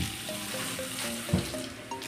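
Water gushes strongly from a water line, making a steady close rushing hiss that stays even through the short stretch.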